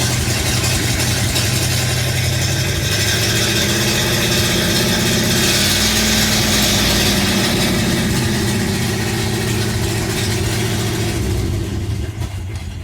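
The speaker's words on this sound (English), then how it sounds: "This is a horrible misfire. It'll eventually sit here and it'll idle." A car engine idles roughly on a cold start with a bad misfire, a loud steady uneven rumble heard up close throughout with no talking.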